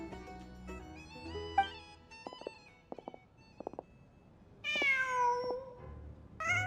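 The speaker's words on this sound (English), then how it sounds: "Huh. Just a cat." A cat in the video game Genshin Impact meows clearly, with a long, drawn-out mew near the end after a few softer chirps and clicks, heard close over a quiet background with no talking.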